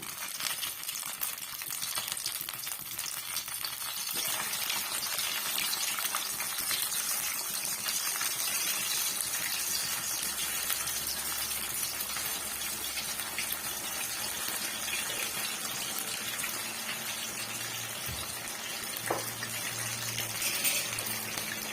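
Potato pieces deep-frying in hot oil for a crispy potato fry snack, a steady dense crackling hiss that holds at an even level throughout, with no talking.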